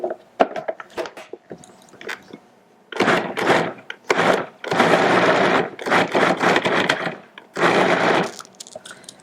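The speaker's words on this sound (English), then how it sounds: "So now I'm just going to pulse it briefly." A food processor with an S-blade pulses raw vegan oatmeal porridge in several short, loud whirring bursts separated by brief pauses, with a few quieter scraping knocks before the bursts start.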